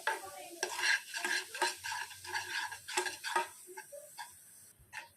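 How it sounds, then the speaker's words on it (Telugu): Milk powder and grated coconut being mixed in a pan for coconut burfi, close rhythmic scraping and clinking of a spoon against metal, with a few light knocks as the stirring slows. "ఇలా మిల్క్ పౌడర్ వేసుకొని బాగా కలుపుకోవాలండి కొబ్బరి కూరని కూడా వేసుకొని మనం ఇలా కలపాలి"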